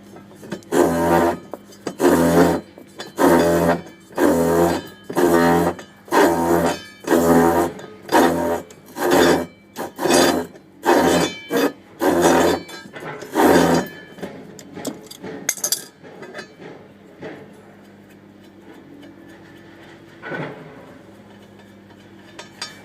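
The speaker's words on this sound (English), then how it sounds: "grab our wrench again, and we'll go ahead and just loosen the prop up" A wrench works loose the nylock nut on an inboard boat propeller shaft: about a dozen evenly spaced metallic ratcheting bursts, close and loud, then scattered faint clinks and a brief scrape as the work stops.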